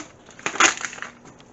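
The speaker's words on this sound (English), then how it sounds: "stirring this in. Making sure it's mixed in here good." A brief scraping, crunching rustle of dry Spanish rice being stirred in a skillet, peaking once in the middle, close and alone.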